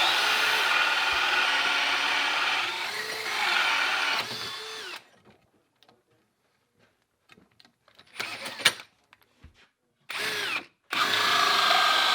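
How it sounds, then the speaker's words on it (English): A power drill bores through wood, whirring loudly and steadily for several seconds before going quiet, followed by scattered clicks and short bursts that end in a couple of renewed drilling runs. "you want to drill from both sides"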